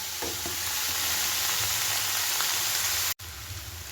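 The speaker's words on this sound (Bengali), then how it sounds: "বেশ খানিকটা পেঁয়াজ ভেজে নিলাম" Steady, loud sizzling of onions frying in a pan until browned, continuous hiss with faint stirring scrapes and a brief cut near the end.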